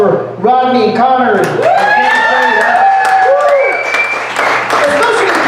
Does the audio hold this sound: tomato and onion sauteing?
no